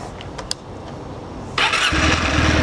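A Kawasaki W650 motorcycle with 12,000 km on it starts up nearby: a short starter crank, then the engine catches into a loud steady idle that continues to the end.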